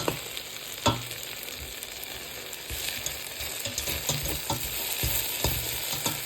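Noodles with mushroom, spring onion and eggs sizzle steadily in a pan, with a few sharp clanks of a utensil stirring throughout; no one speaks.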